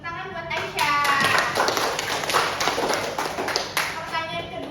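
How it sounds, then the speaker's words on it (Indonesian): A classroom of pupils claps for a student who has just answered correctly, a lively burst of hand claps filling the room alongside children's voices. "tepuk tangan buat Aisyah"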